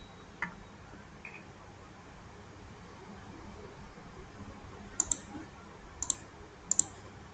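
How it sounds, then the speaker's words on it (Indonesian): Computer mouse clicking, a few sharp close clicks spaced out, including quick double clicks near the end, over faint room noise. "Lalu klik OK."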